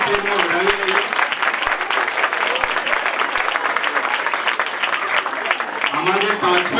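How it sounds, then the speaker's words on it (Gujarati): Steady, loud audience clapping fills a hall, honouring 56 children on stage at a pathshala cultural programme during Paryushan, with a voice speaking over the start and end. "આ 56 પાર્ટિસિપન્ટ્સ માટે જોરદાર તાળીઓથી આપણે એમને વધાવી લઈએ"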